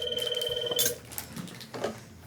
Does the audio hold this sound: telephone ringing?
yes